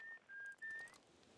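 A traveler on a moon in the video game Outer Wilds whistles a simple tune, three clear sustained notes rendered quietly and distantly, alone and without talk.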